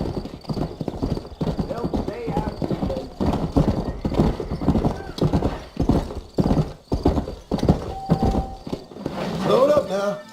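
Horse hooves clip-clopping steadily in Red Dead Redemption, set around the town of New Austin, with occasional whinnies and characters talking over the rhythmic, close hoofbeats.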